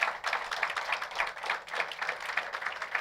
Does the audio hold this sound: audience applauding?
yes